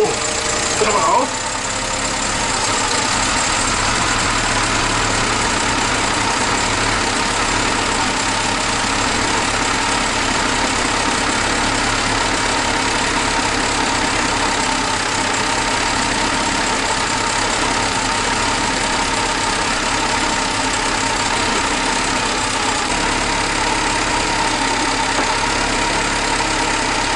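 A Volkswagen Polo 86c engine idles steadily close by, a constant loud rumbling drone with an even mechanical texture that holds unchanged for the whole stretch after a brief initial knock.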